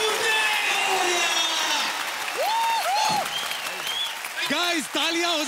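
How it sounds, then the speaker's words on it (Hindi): Audience applause fills a large studio after a singing battle-round performance on a TV talent show, a dense steady clatter of clapping heard throughout with a voice and scattered musical tones over it. "गाइस तालियां हो जाए भाई।"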